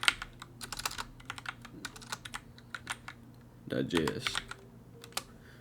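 Quick clicks of a computer keyboard as a file name is typed, irregular bursts of keystrokes with a denser clatter near the end, a voice speaking over them.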